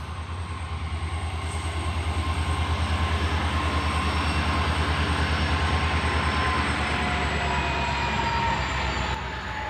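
A train with a faulty engine pulls into a railway station, producing a loud, continuous rumble with a steady rhythmic clatter of wheels over rail joints and a faint high whine throughout, with no voices.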